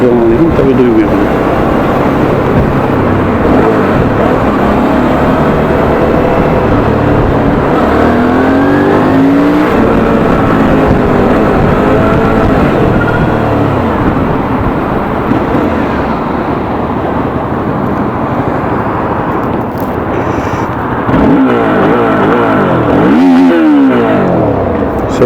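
A Suzuki V-Strom 650 motorcycle engine revs and accelerates loudly and continuously, with rising and falling pitch sweeps as it pulls through gears, close to the microphone with steady road and wind noise underneath.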